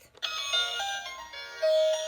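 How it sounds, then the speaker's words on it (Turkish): A bright electronic ringtone chimes a short melody of bell-like tones, clear and fairly close. "Annemin telefonunun zili değil ama en sevdiği Tara'nın en sevdiği zil."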